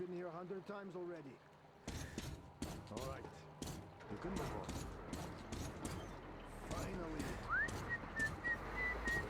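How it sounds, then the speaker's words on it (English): A character in the video game Metro Exodus whistles an old Russian gangster song, a thin rising whistle phrase near the end heard over clattering mechanical creaks and knocks, with a voice talking at the start. "He is whistling an old Russian gangster song."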